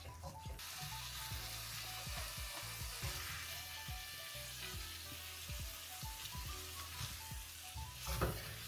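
Butter and brown sugar sizzle steadily in a pan as they caramelize, a dense continuous frying hiss with soft stirring scrapes and knocks throughout.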